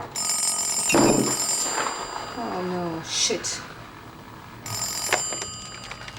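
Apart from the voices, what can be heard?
telephone ringing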